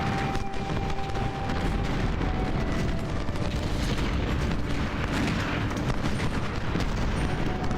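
Dense, continuous battlefield din of massed musket volleys and artillery fire from a Civil War battle at Antietam in a strategy video game, a steady loud roar of overlapping shots with no distinct pauses.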